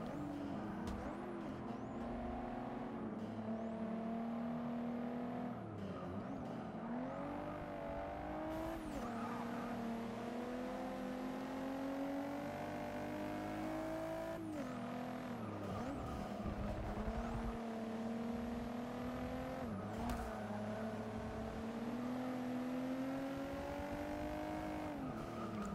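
A Porsche races in the Forza 6 video game, its engine revving repeatedly through gear changes with rising and falling pitch and occasional tire squeal, all continuous and fairly quiet.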